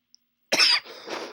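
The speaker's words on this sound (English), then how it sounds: "Sorry for the coughing." A single close, loud cough followed by a brief throat-clearing rasp, heard on its own in a quiet room.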